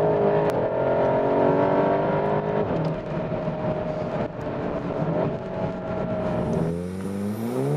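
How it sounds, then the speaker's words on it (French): Volkswagen Golf 7 GTI Clubsport engine heard from inside while downshifting with the paddles on a dry road, a loud steady engine drone whose pitch rises with each gear change and revs up near the end, with no talk. "quand on rétrograde aux palettes, la sonorité est vraiment sympa"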